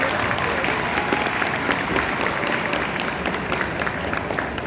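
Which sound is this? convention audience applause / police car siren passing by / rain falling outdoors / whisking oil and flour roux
convention audience applause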